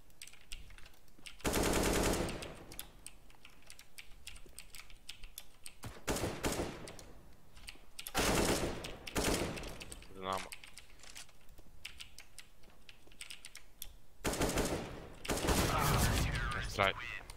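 Bursts of automatic gunfire from a Counter-Strike match on Dust 2, several loud volleys spaced through the stretch, alongside steady keyboard clatter and quieter game noise.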